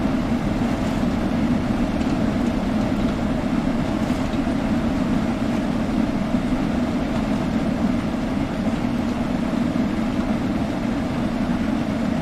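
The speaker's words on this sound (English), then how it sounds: "Steam trains are surprisingly easy to drive in this game." Steam locomotive in Train Sim World 4 runs with a steady low rumbling drone and hiss, constant and unchanging throughout without voices.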